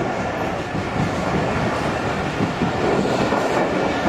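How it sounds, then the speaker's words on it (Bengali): A passenger train rolls past close by in Bangladesh, a dense continuous rumble with rhythmic wheel clatter over the rails that holds steady and grows slightly louder. "এটা কি রাজশাহীর ট্রেন?"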